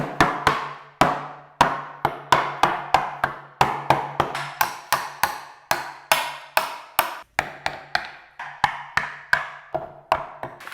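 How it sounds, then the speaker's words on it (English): Tools batter wooden shelves to weather them, a long run of sharp, irregular hammering whacks and chopping knocks, some single and some in quick clusters, close and loud with short decays between hits. "the way you do that is you get some tools and you smash away"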